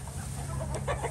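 Chickens clucking softly inside a coop fitted with hinged roosts, a low steady hum beneath and a few brief close clucks toward the end.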